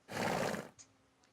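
A dressage horse lets out a single loud, close whinny lasting over half a second, followed by a couple of faint small sounds.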